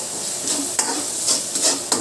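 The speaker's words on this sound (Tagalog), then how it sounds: "Igisa na rin natin yung sayote." Chayote sautéing in a pan, with a soft continuous sizzle broken by a few scraping stirs of a utensil.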